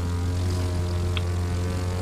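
The stock propeller airplane in the racing game The Crew 2 drones steadily in flight. The low, humming engine tone is continuous and prominent, layered with faint whooshing wind, and no one speaks.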